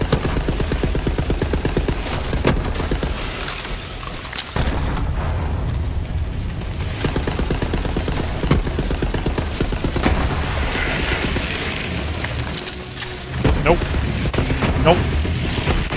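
Loud explosions and rapid gunfire in the video game Borderlands 3 form a dense, booming barrage that carries on almost without pause. A brief voice comes in near the end.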